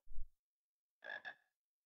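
After a brief low thud, frogs in the Harry Potter and the Sorcerer's Stone video game let out a quick double croak, close and clear against silence.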